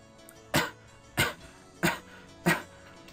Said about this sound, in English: That is me coughing.